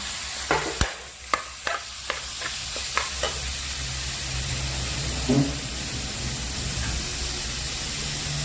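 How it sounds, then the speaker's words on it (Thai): Minced pork stir-frying in a pan for a grilled eggplant salad, with a steady sizzle under several sharp metallic clanks of a spatula against the pan early on, heard close and alone. "มันลงแล้วก็เอาหมูลงไปรวนเลยนะคะ"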